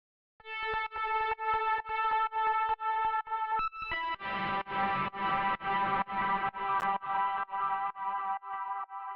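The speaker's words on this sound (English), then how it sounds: "some distortion" Deep house loop in FL Studio gaining a distortion effect: a steady pulsing synth pattern on a regular beat becomes grittier and fuller partway through, with no talk over it.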